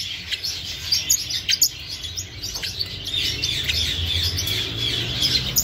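Red-rumped parrots chirp and squawk in a cage at a farm supply store, with a busy run of overlapping tweets and calls close by and a low background rumble.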